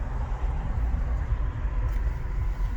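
Car driving near New York City waterfront, a steady low rumble of road and engine noise heard from inside the vehicle, continuous throughout.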